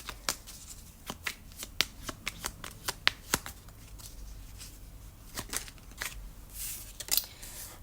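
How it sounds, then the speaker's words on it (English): Tarot cards are shuffled in quick, crisp riffles and taps, a steady patter of light flicks close by and fairly quiet, with no talking. "let's just shuffle your cards"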